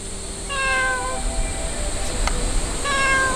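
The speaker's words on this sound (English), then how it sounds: "We found this cat randomly that came out of the woods." A stray cat that came out of the woods gives two clear, close meows, one near the start and one near the end, with quiet outdoor background between them.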